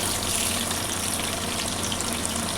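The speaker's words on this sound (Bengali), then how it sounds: "পেঁপে আলু কিন্তু হালকা ভাজা হয়ে গেছে" Papaya and potato pieces lightly frying in a pan for a chicken stew give a dense, even, hiss-like sizzle that stays steady and close throughout.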